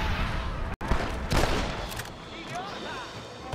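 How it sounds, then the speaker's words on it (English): Enemy gunfire in Red Dead Redemption, a burst of shots with one sharp crack early on, then scattered distant pops under tense shouted dialogue. "They're shooting down on us!"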